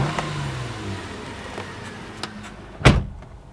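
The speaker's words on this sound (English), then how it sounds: "I have not heard a Nissan door close with that level of solidity ever." A Nissan Maxima door shuts with a single solid thud near the end, preceded by faint clicks and quiet low car hum.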